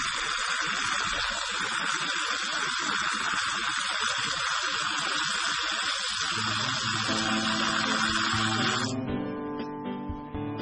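Water drains down a vertical drain into the ground below the hard pan, making a steady, loud rushing hiss that holds for about nine seconds, then cuts off and leaves a quieter, tonal trickle.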